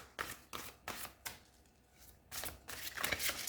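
Oracle cards are shuffled by hand in a series of quick, crisp riffling bursts, close and fairly quiet, with brief pauses between rounds and no talking.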